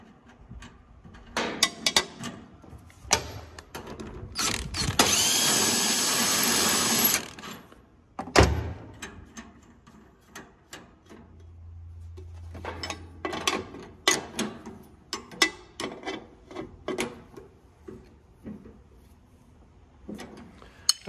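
Mechanical clicks and ratcheting taps from work on a Gleaner R72 combine as a jam nut is threaded on, with a sustained whirring burst partway through and scattered metallic knocks; close and moderately loud, no talking.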